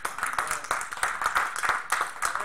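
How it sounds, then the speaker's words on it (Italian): Audience applause at a billiards competition, with steady, dense hand clapping from a nearby crowd that continues without a break. "gradirei che tutti quanti facciamo un applauso a queste partecipanti"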